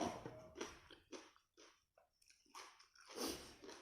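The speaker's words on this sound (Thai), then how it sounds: "ได้ยินเสียงไหมคะกรอบมากอะ กรอบ" Close, crisp crunching as someone bites and chews crispy Thai roast pork with sticky rice, a run of sharp bites and chews in an irregular rhythm.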